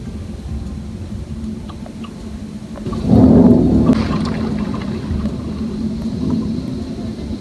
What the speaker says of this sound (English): It's raining really hard and thundering.